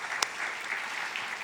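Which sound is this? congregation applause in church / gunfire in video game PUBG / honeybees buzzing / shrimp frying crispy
congregation applause in church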